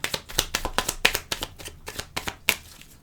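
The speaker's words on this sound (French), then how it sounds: "on va mélanger les cartes" Oracle cards shuffled by hand in a quick, uneven series of about a dozen crisp riffling flicks, close and fairly quiet.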